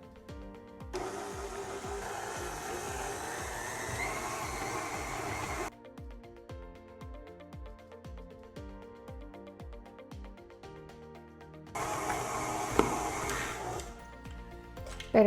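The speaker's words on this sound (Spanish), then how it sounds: "vamos a comenzar a batir nuestra mezcla alrededor de unos 8 minutos a que se nos haga una masa tersa y una masa lisa" Stand mixer beating whole wheat bread dough, a steady motor whir with rhythmic thumping of the dough, louder at the start and again near the end, close by with no talking.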